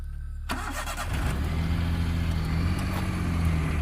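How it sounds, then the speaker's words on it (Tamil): Vehicle engine starting: a brief cranking burst followed by the motor catching and settling into a steady, fairly loud idle, close by with no voices. "வண்டி ஸ்டார்ட் பண்ணு நீ."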